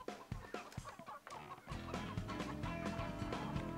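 Chickens cluck repeatedly in the Nintendo 64 game Earthworm Jim 3D, starting as sparse sharp clucks and then blending into a steady, busy game soundtrack with music and a continuing flock of clucking fowl.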